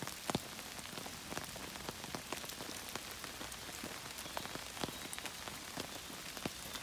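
Steady rain patters down outdoors among fresh green foliage and wet bamboo, a dense continuous hiss scattered with sharper individual drops, with no voices.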